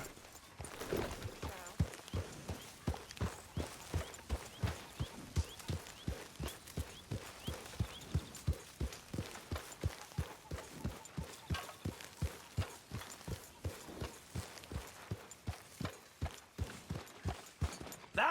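Horse hooves in Red Dead Redemption II, a steady rhythmic clip-clop of a walking or trotting horse, soft and continuous throughout with no whinny evident.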